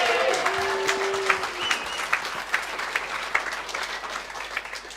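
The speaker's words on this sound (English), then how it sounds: "Please give Dr Bob Gill a round of applause." Audience applause for a speaker at a talk, a steady wash of clapping from a roomful of people, with a few whoops and vocal sounds rising above it near the start.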